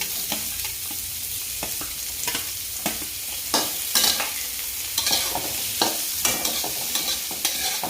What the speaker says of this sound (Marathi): आता सगळ्यात पहिल्यांदा आपण कांदा परतून घेणार आहे